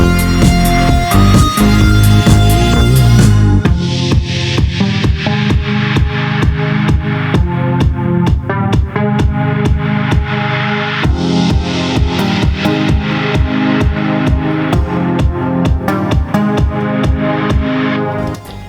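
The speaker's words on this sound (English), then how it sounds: "there's a really, really big noise cascade that's going into the break as well" A loud disco beat with a steady four-on-the-floor kick; a dense noise cascade swells at the start, leading from the chorus into the break, before dropping back to the thumping groove.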